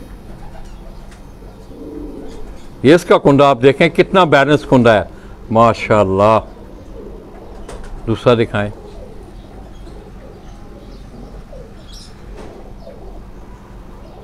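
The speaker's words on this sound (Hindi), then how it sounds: "ब्रीडर कबूतर जो हैं" Breeder pigeons coo softly on a rooftop in Karachi, a low, steady murmur running beneath a man's close, loud talking.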